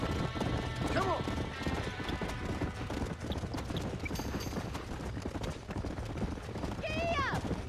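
Horse hooves clip-clop at a steady gallop through a Red Dead Redemption ranch scene with a burning barn, continuous and moderately close, with a couple of whinnies and voices talking over it.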